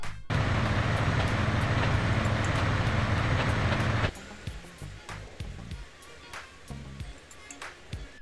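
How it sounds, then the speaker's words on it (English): A speeding train in GTA San Andreas roars loudly and steadily for about four seconds, then cuts off abruptly as it derails, leaving scattered clanks and faint rumbling. "If you go extremely fast when driving train, it will derail."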